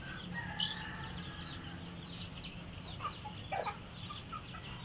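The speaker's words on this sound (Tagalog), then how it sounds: "yung mga native chicken ko" Faint native chickens cluck and chirp now and then against a steady hiss of outdoor noise, with an occasional soft flutter, distant and quiet.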